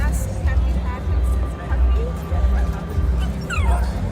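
Dogs bark, yip and whimper close by at an outdoor rally in Nathan Phillips Square, Toronto, in repeated short bursts over a steady crowd murmur and passing traffic.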